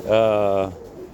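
A pigeon gives one sustained, close, fairly loud coo lasting about half a second, with a quieter tail of background sound after it.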